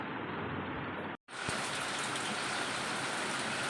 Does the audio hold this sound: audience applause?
no